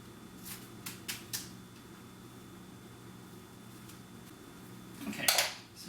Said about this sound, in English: I'm going to cut around this in a circle.